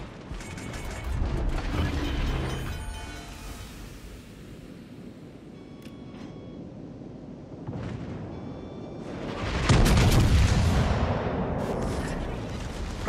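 Naval guns fire at an enemy warship in a video game, heard as loud deep booms and rumbling blasts that swell and fade across several seconds, with a heavier salvo near the end and faint mechanical clanks between.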